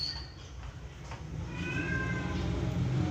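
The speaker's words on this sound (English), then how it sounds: "this is the voice of my cat" A cat meows a few times in a drawn-out, wavering tone over a steady low background hum, moderately close.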